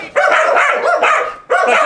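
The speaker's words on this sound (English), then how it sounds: "The dogs are going crazy." Several dogs bark excitedly in a loud, continuous burst of overlapping barks and yips, with a brief pause before one more round, close by.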